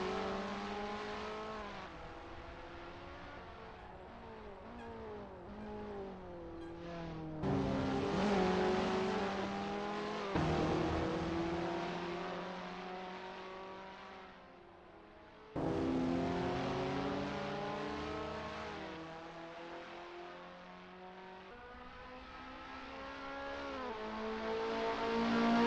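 A KTM X-Bow R race car laps Monza in Assetto Corsa, its engine note climbing steadily through the gears and then dropping sharply on downshifts at the braking zones, heard continuously from onboard.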